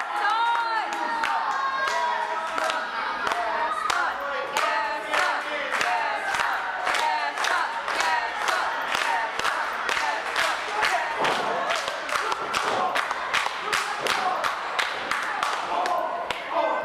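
A wrestling crowd rallies at a live match, with a steady run of rhythmic, evenly spaced claps, about two per second, over loud massed chanting and cheering that lasts the whole stretch.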